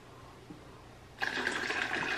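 Orange juice is poured into a container as part of a detox drink: a faint quiet stretch, then a sudden steady splashing trickle that starts partway through and keeps going to the end.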